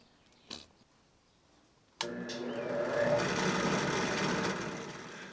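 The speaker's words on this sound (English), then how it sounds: "I used a 1 1/2 inch diameter saw to match the inside diameter of the pipe" A 1 1/2 inch hole saw bores a plug from scrap wood. A single click comes first, then a sharp start into a steady whirring drone that holds to the end without talk.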